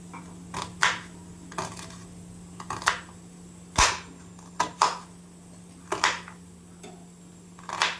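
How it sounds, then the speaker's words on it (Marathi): Knife chopping onion on a cutting board: sharp, sparse taps at an uneven pace, fairly quiet and close, over a steady low hum. "कांदा पण आपला छान कापून घेऊ."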